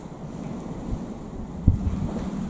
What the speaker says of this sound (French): il y a des petites rafales de vent.